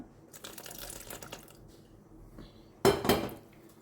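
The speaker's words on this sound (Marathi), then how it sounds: "आतां हांव उदक घालता" Water splashes into a rice mixture in a kitchen bowl, a short close pour near the end after faint clinks of utensils, with no talk.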